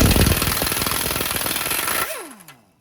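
An impact gun hammers rapidly on a stuck axle cotter pin of a 2014 Subaru Crosstrek, loud and close, then spins down with a falling whine as the pin comes free.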